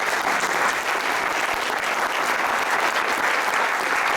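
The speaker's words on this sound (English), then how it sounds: "So a big round of applause for the mayor candidates." A crowd at an all-candidates forum for mayoral candidates in Summerland applauds steadily and loudly for the whole stretch, a dense even wash of clapping with no break.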